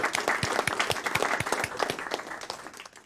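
A crowd applauds at an esports awards announcement, steady dense clapping that fades toward the end.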